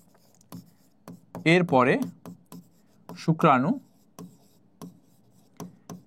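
During a biology lesson, short scratchy strokes of writing come in a sparse, uneven rhythm, close and fairly loud, while a teacher speaks briefly twice between them.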